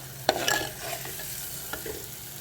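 Shallots, onion, ginger garlic paste, fenugreek and mustard sautéed in a pan, a soft sizzle with a few distinct stirring clinks, brief and close, with no speech.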